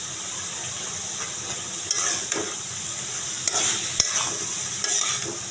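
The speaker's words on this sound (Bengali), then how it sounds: "এবার ঢেলে দেব ভাপ দিয়ে রাখা কচুরলতি" Steamed taro stolons (kochur loti) stirred into a sizzling pan with a blended spice paste and a little water, a steady close frying hiss broken by occasional sharp scrapes of the spoon against the pan.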